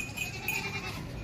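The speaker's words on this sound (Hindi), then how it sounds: "ये है बकरा और वो है बकरी" A goat on a livestock market lot gives a short, loud bleat close by, with a noisy, crowded outdoor background.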